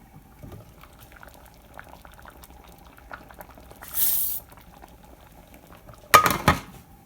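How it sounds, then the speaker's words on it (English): Sweet potato and red lentil soup simmering in a pot, a faint steady bubbling close by, broken by a hiss midway and a louder clatter of pot or lid near the end, with no talk. "adding another 1/2 cup of red lentil and leaving it on simmer for 15 minutes"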